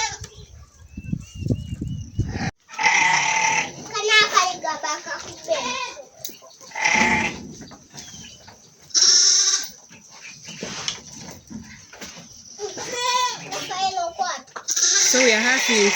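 Goats bleat repeatedly on a farm during medical checkups while one goat gives birth; loud, close cries come in bursts alongside people talking and occasional rooster-like calls.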